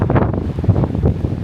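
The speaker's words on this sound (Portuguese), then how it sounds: "Você tá andando assim, o vento bate numa perna, joga," Strong gusting wind buffets the microphone on the Oregon coast at Newport, roaring in heavy irregular bursts with surf-like rumble underneath, loud and close throughout.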